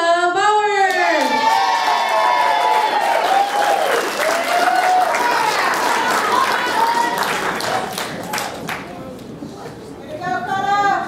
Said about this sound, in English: A round of applause, I'm insane. Dakota Bauer!